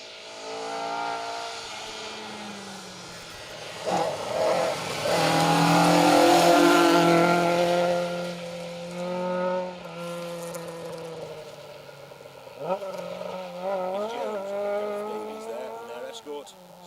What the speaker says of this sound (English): Sounding engine note to that car